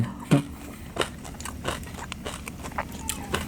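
Crispy pork rinds bitten and chewed up close, a sharp crunch at the start followed by a steady run of crackly chewing, loud and near with no voices.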